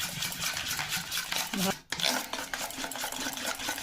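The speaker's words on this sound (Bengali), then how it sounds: "হালকা একটু বেকিং পাউডার দিলাম, হালকা। এটাকে ভালো করে ফেটে নিতে হবে" Batter with a little baking powder beaten in a bowl, a steady scraping, stirring clatter that continues throughout with one brief pause near the middle, close and moderately loud.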